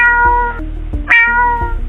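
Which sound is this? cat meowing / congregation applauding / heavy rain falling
cat meowing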